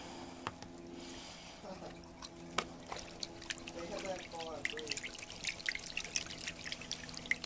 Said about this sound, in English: you're going to put it in the hot soapy water, just dish detergent, and you're going to scrub